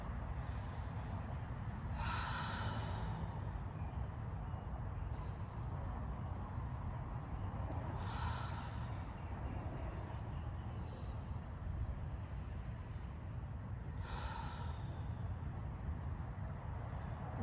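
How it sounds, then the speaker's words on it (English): Slow, steady breathing during a guided poem meditation, with long soft inhales and exhales repeating every few seconds over a continuous low background hum, with no talking. "Let's breathe."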